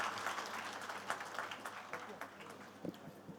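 Audience applause in a hall at a political gathering honouring Abu Asim Azmi, a steady broadband clapping wash that holds for several seconds, with a few louder claps standing out near the end.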